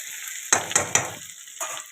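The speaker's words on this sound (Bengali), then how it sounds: "হালকা করে ভেজে নেব পনিরটা" Paneer pieces dropped into hot oil in a pan for a potato-and-paneer curry, three quick splashy bursts spreading into a steady, close sizzle that fades, then flares briefly again near the end.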